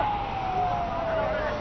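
A fire brigade vehicle's siren wails at a transformer blast fire in Chhattisgarh, India, holding a single slowly falling tone, loud and steady over a continuous background roar.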